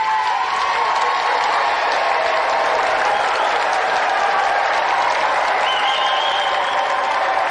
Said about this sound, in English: Round of applause for Cathy Dennis.